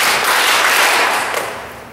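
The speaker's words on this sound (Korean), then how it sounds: "박수 한번 3번만 쳐요" A church congregation claps together in a burst of sharp, loud, crowded claps during an evening worship service, dense at first and thinning as the sound decays, with no talk over it.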